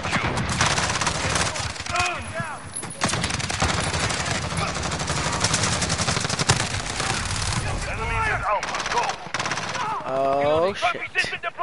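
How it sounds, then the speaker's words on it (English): Rapid automatic gunfire rattles through a Call of Duty: Warzone match, loud sustained bursts filling the scene while a player's voice shouts over the shooting. "Yeah, stop shooting me!"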